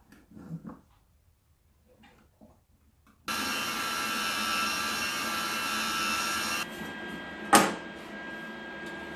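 Wire welding with a freshly loaded spool: after a few quiet moments, a steady buzzing, crackling arc runs for about three seconds, then a fainter hum follows with one sharp clank.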